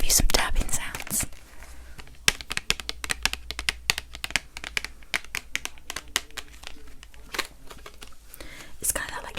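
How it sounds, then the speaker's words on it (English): Close, crisp tapping on shiny plastic, a quick run of sharp clicks and taps with irregular rhythm, soft rustling and a faint whisper underneath in a quiet ASMR setting. "Let me just give you some tapping sounds."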